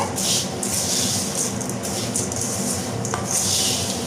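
Peanuts and savory mixture being tossed into a spiced puffed rice snack, producing a continuous crisp rustling and crunching with scraping against a bowl, fairly close and loud throughout.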